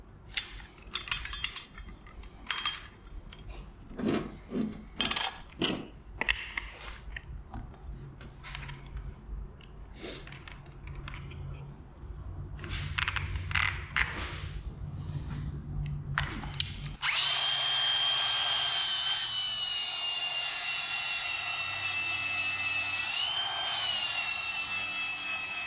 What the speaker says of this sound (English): May have to just grind the head off.